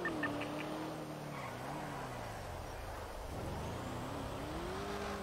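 A badly damaged car in GTA RP drives and skids, its engine pitch rising, dipping sharply and climbing again as tires scrub, a continuous moderately loud run with no voices.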